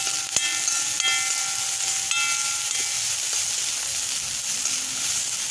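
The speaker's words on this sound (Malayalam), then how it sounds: "ഇനി ഇതിലേക്ക് ഞാൻ ഒരു പച്ചമുളകും അതുപോലെ തന്നെ 2-3 ബീൻസ് ചെറുതായിട്ട് അരിഞ്ഞതും ഒരു ക്യാരറ്റും കൂടെ ചെറുതായിട്ട് അരിഞ്ഞതും ഇതിലേക്ക് ഇട്ട് കൊടുക്കുകയാണ്." Chopped green chili, beans and carrot sizzling in a hot pan, a steady loud frying hiss with a few clinks from stirring near the start, no voices.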